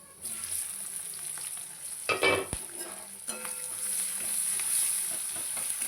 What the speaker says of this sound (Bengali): মাছ ভাজার তেলেই করছি ঠিক আছে